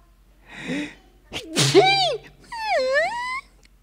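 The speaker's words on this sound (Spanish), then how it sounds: "es un estornudo mañanero, eso no es nada" A woman's loud morning sneeze, an inhaled gasp followed by a sharp burst, then a drawn-out whining exhale, heard close in a bedroom scene of a drama.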